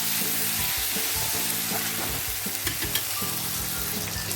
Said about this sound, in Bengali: এখন ভেজে রাখা আলু আর ঝিঙ্গেটা আমি দিয়ে দিলাম অ্যাড করে দিলাম দিয়ে এটাও আমি নাড়াচাড়া করে নেবো একটু